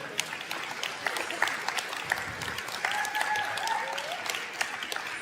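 An audience at a live panel discussion on how health care workers adapted to the pandemic gives a round of applause. The dense clapping holds steady throughout, with faint voices mixed in.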